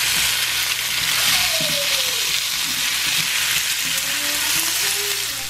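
Potatoes pan-fried golden brown sizzle steadily in a hot pan with bacon and onions just added, a continuous close crackle with a few soft utensil knocks.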